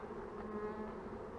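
Honeybees buzz around an open brood hive, a soft continuous droning hum with layered tones, close by and alone.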